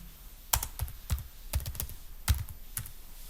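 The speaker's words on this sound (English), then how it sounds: "Up here, type my name" Typing on a computer keyboard, heard as short clusters of crisp, close key clicks at an uneven pace against a quiet background.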